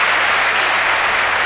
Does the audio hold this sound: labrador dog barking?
no